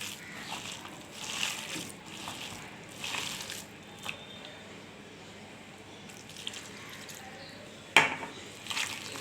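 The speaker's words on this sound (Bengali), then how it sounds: "দেখুন, একটু অল্প অল্প করে জল দেবো।" Water poured little by little into cabbage pakora batter being mixed by hand, faint trickles and wet squishes in short spurts, quiet and close.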